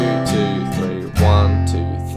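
Two acoustic guitar strums for the chords of a song, each ringing out full and close, a brief solo strumming snippet with no voice.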